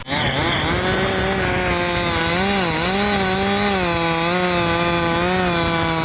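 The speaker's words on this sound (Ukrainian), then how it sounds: "розрізали бензопилою дерев'яні колоди" A gasoline chainsaw cutting wooden logs during mountain rescuer training, loud and close, its engine wailing steadily under load with slight pitch wobbles as the blade bites through the wood.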